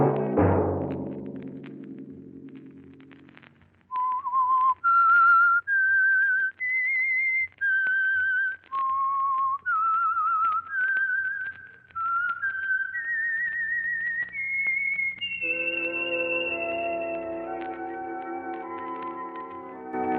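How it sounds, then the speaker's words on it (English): A whistled theme rising step by step as the signal for The Whistler radio show, a series of clear sustained whistled notes climbing in pitch, following a brief low musical passage and leading into an orchestral swell. "Let that whistle be your signal for the Whistler each Sunday night at this same time."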